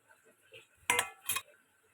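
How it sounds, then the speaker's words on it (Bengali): Fish pieces and water lily stems are stirred in a pan, giving two sharp metallic clinks of a utensil against the pan close up, surrounded by quiet background. "নেড়ে চেড়ে মিশিয়ে নেব।"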